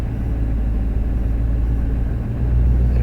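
A 2014 Ram 1500 with the 5.7 HEMI V8 idles with a close, constant low rumble and no break in the steady engine note.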